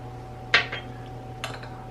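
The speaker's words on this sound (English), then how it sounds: "Put the eggs in, put the butter in," Eggs and melted butter drop into a medium mixing bowl, giving a sharp clink followed by a softer knock and a second light tap, close and brief over a quiet kitchen hum.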